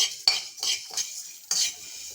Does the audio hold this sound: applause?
no